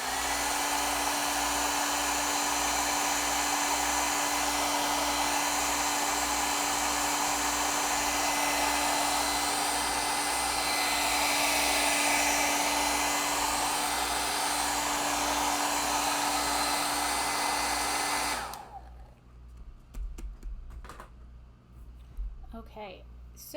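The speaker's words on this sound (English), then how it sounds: "I'm going to blow dry this real quick." A hair dryer blowing steadily up close to dry acrylic paint, a loud continuous whir with a low hum that cuts off near the end, followed by light handling clatter.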